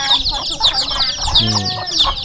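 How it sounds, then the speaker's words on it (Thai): Free-range chickens in a rural Thai village cluck and squawk repeatedly, loud and close, with a busy chorus of several birds. "นี่ไก่ธรรมชาติบ้านเพิ่น"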